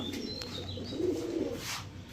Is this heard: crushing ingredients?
no